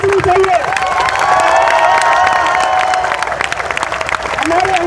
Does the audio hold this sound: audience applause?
yes